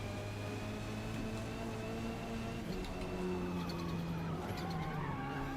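A race car in Forza Motorsport sliding with no tyre grip, a continuous squealing skid riding over a droning engine whose pitch slowly falls, with no talk.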